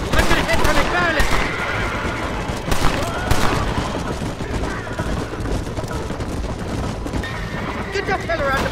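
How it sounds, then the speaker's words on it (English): Enemy gunfire in a video game with an M1919 Browning machine gun, near-constant crackling shots and bursts, with horse whinnies and hoofbeats layered in and voices talking throughout. "They're shooting right at me!"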